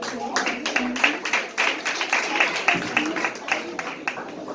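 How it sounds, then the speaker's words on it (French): An audience at a preschool graduation ceremony in Carrefour applauds a graduate with fairly steady, moderately loud clapping that swells and dips, while voices talk over it. "On applaudit Mélo, s'il vous plaît."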